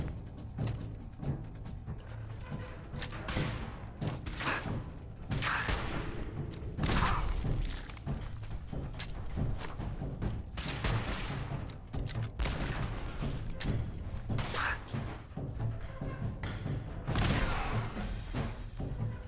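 Repeated grenade explosions in a shooter video game, a steady stream of thumping blasts and gunfire bursts throughout, dense and loud with no clear pauses.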